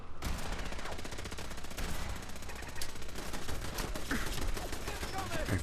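Rapid gunfire from a Fallout 4 battle at Bunker Hill, dense overlapping bursts and shots running continuously and loudly throughout, with a voice talking over the shooting.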